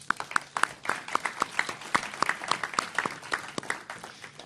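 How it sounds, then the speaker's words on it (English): Applause from an audience at a city government event in Washington, honoring task force members on a business regulatory reform report; dense, steady clapping from a modest crowd throughout, fairly close. "And let's give them a round of applause."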